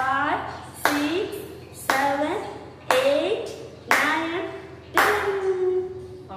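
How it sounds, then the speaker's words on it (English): Young kindergarten children clap ten times in an online class, six sharp claps heard at a steady roughly one-second pace, each followed by children's voices counting aloud. "We can clap 10 times."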